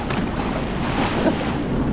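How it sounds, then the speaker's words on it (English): Strong wind buffets the microphone in a continuous roar aboard a Sea-Doo, with the wash of big open-water swells beneath it. "It's pretty windy out here, gotta say."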